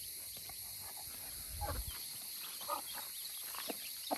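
Baby chicks near their mother hen peep in short, faint, scattered calls against a quiet outdoor background on a hot morning in Antalya, with no talk.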